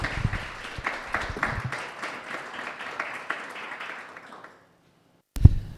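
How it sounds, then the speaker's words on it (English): An audience claps to welcome the next speaker at a Sheffield talk on live coding and Algorave, with individual claps audible in a steady round that thins and fades out after about four seconds, followed by a brief thump. "can we get a round of applause for your next speaker?"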